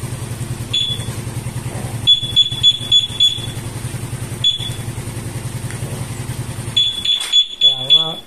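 A motorcycle's anti-theft alarm sounds in repeated bursts of sharp high beeps over the low hum of an idling engine, loud and close, with the engine note dropping away near the end as it shuts off.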